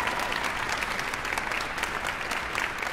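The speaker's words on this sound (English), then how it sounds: "Let's give another round of applause." Concert audience applauding a soloist during an orchestral program, a full, even wash of clapping lasting several seconds before cutting off abruptly.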